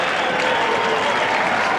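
A generous round of crowd applause rolls steadily through a stadium during a 1995 rugby league match between Sydney Bulldogs and Canberra Raiders as a player leaves the field, with a faint commentary voice beneath.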